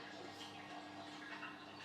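A domestic dishwasher running in a kitchen, heard as a faint, steady watery wash and hiss in the background, continuous and even without distinct breaks.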